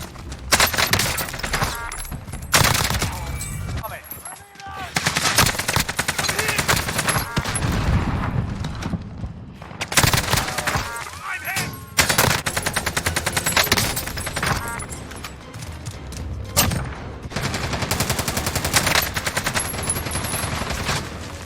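AK-47 gunfire in Call of Duty Cold War rattles in rapid automatic bursts, dense and loud, separated by brief pauses, with little speech.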